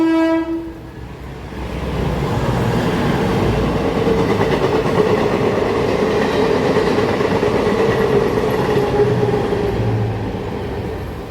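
A train rumbles past close by, a loud continuous roar with a brief horn blast at the start.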